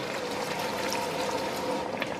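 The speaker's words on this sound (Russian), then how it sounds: "Я добавляю примерно 200 мл горячей воды." About 200 ml of hot water pours steadily onto carrots frying in a pan while cooking chicken plov, giving a continuous close hiss and splashing with no talking.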